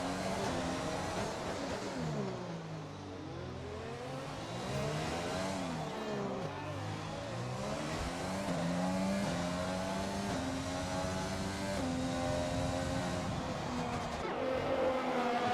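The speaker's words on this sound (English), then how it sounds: "BTFU now in the second AlphaTauri car, making his way through the swimming pool section as we speak right now" An AlphaTauri Formula 1 car in F1 2020 screams through Monaco's swimming pool section, its high engine note sweeping up and down steadily through gear changes and corners, with the continuous whine dominating throughout.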